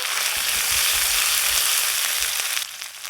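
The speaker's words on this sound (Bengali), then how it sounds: "হালকা একটু ভেজে নেব।" Fish curry ingredients, bay leaf, chopped onion and garlic, ginger and coriander pastes, sizzle in a hot pan with a loud, continuous crackle that eases slightly near the end.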